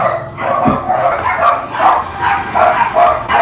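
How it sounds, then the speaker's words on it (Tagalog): Several dogs bark repeatedly in quick, loud bursts close by, some yips mixed in, with brief pauses between volleys and little else in the background. "Ay, ito mga asong to."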